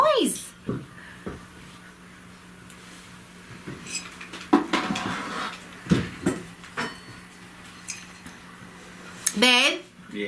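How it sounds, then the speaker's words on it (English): Screwdrivers falling off a table give scattered metallic clanks, rattles and scrapes, some sharp and loud, while people talk over them. "All the clanking and rolling and scraping. Oh, that was the screwdrivers coming off of this table."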